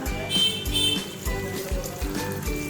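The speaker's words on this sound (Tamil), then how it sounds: "டிஷ்ஷுக்கு தேவையான அளவு தண்ணி ஊற்றிக்கலாம்." Water poured into soaked dal in a pot for cooking pudalangai kootu, a close, steady splashing and trickling that keeps going with uneven surges.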